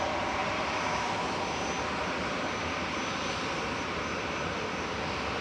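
A Boeing 787-9 Dreamliner arriving at Manchester Airport from Cancun gives a steady, moderately distant jet roar, even and continuous throughout with no voices.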